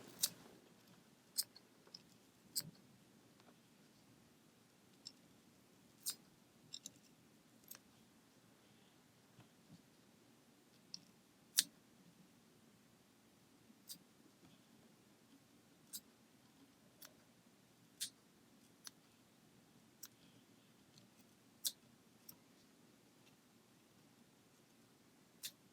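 Scissors trimming fly-tying materials on an articulated single-hook brown trout fly, sharp isolated snips scattered irregularly across a quiet room, close and crisp.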